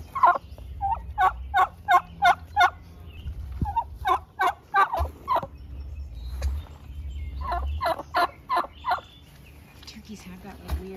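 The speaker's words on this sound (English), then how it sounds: "Is that a turkey too?" Turkeys gobbling outdoors in quick rattling bursts, several rapid runs of calls repeated over and over, fairly clear and moderately near, with soft background noise and no talking.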